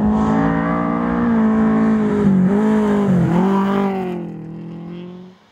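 A KE30 Toyota Corolla rally car drives hard on a classic rally stage, its engine note loud and strained with pitch shifts from gear changes, then fading away toward the end.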